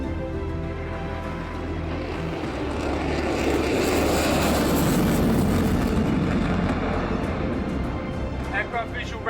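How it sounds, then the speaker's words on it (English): Jet aircraft launch from a Royal Navy warship, a loud broad engine roar building over several seconds and then slowly easing, with a voice speaking over it. "The coast is clear to launch the jets."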